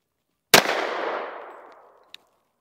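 A single sharp 10mm pistol shot from a Sig Sauer X10, loud and close, fired outdoors past a chronograph, its report ringing out and fading over about a second and a half, followed by a small metallic tick.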